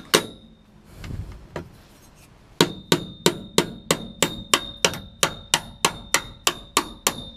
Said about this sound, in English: hammer it in with some tool